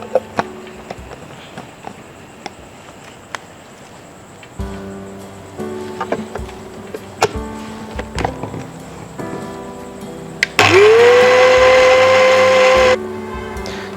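Light clatter and handling noises come first, then an electric blender roars loud and steady for about two seconds, its motor pitch rising, as it blends a sauce with extra oil for whole grilled chicken.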